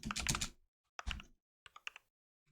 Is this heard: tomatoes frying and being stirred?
no